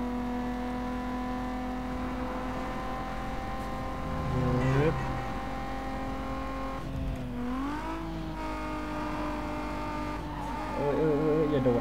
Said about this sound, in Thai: สียงรถมันมาแล้วฮะ